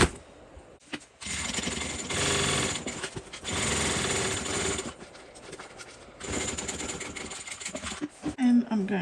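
A sewing machine stitches a second row along a handmade bag in long, loud buzzing runs broken by short pauses, with a brief burst of noise at the end.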